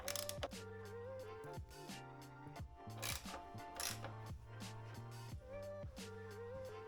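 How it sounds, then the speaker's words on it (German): A ratchet clicks in quick bursts up close while a screw is loosened on the inner fairing panel of an Aprilia RS660 motorcycle, with short pauses between runs of clicks. "Dafür müssen wir hier nur eine Schraube lösen."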